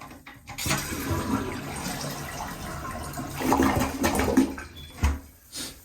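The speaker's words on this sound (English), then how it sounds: "2 gallons now in here. Flush it, send it through." A toilet in a cabin flushes RV antifreeze through the water lines during winterizing: a loud rushing flush lasting several seconds, swelling midway and ending in gurgles, with no talking.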